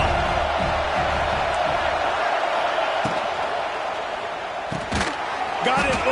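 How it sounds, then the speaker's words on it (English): A stadium crowd roars in College Football 2026, a sustained wash of cheering that holds steady throughout, with a few brief sharp thumps and clatters near the end and faint talk underneath. "This crowd rising up, sensing that its defense needs some help"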